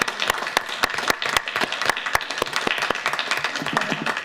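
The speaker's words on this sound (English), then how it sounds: "Please, round of applause." An audience at a school board meeting claps for a longtime district staff member, with sharp, loud individual claps standing out over a steady background of lighter applause.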